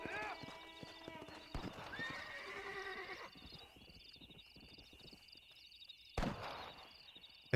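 A horse's hooves clip-clop in a steady walking rhythm, then it gives a loud whinny in the Red Dead Redemption game, with music and other game sounds underneath and someone talking over it.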